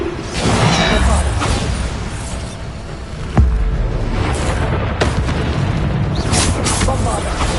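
Booming blast of the Bombarda spell in the Hogwarts Legacy video game, a heavy explosive burst rising from a dense, continuous din of combat effects with whooshes around it.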